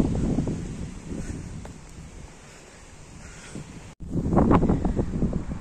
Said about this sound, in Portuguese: O vento não deixa o cabelo da gente parar de jeito nenhum, né?